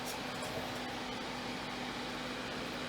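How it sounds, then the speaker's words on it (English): A steady soldering fume extractor fan whir with a faint constant hum runs throughout, broadband and unchanging. "That is my fume extractor, in case you're wondering what that noise is."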